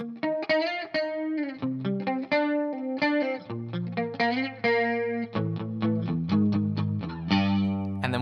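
Electric guitar with distortion, chorus and effects plays a segue riff from a song leading out of a verse, a steady melodic run of picked notes that drops into a lower register partway through, loud and close with no talk.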